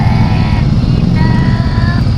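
A Ducati Scrambler motorcycle engine runs loud and close on a test ride, a steady rumbling drone with no pauses and no voices.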